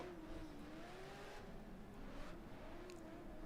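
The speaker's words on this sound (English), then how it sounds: "you can hear a lot of throttle modulation though with everybody" Drift race cars at a qualifying round, engines droning in the distance with wavering pitch as throttle is modulated, faint and continuous against a steady background.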